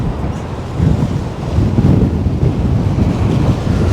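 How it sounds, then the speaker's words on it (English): Strong wind buffets the microphone by the sea, with a loud, continuous low rumble that surges in gusts and never lets up. "Now it's got very windy here."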